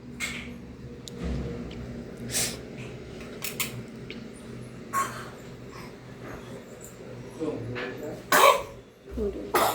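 A child coughs several times in short bursts, scattered between quiet stretches with faint household sounds.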